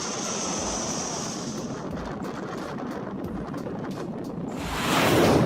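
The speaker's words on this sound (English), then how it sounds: "the crew is fighting the windstorm Friederike that took over the Netherlands and Germany on January the 18th, 2018" Airliner landing in a strong crosswind during windstorm Friederike, a broad roar of wind buffeting and engine noise that stays steady, then swells louder toward the end as the aircraft nears.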